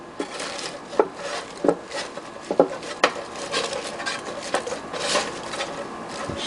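Chicken tenderloins shuffled around in the basket of a Ninja Foodi two-basket air fryer, close scraping and irregular hollow knocks with soft rubbing in between, no talk.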